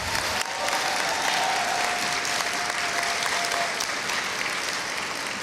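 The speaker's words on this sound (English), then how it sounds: "Give them a round of applause." Sustained audience applause at a white coat ceremony: dense, steady clapping from a large crowd fills the hall for the whole stretch, with a faint whistle or cheer rising through it midway.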